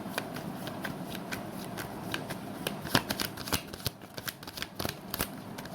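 Tarot cards are shuffled by hand close up, a rapid run of crisp riffling flicks and soft slaps, steady for several seconds with no talk.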